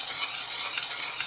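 A gooey keto pecan bar mixture is stirred in a pan over medium heat, making a continuous close, bright sizzling scrape with no talk.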